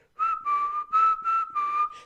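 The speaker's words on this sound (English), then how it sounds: "I can whistle pretty good." Someone whistles a short tune of five steady, clear notes with brief gaps between them, close and alone.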